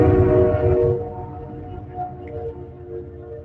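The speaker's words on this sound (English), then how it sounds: "Sorry, train going by." A passing train rumbles loud and steady at first, then fades into a lower, fainter rolling drone with no one talking.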